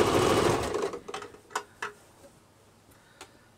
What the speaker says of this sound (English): So I'm sewing it about 1 inch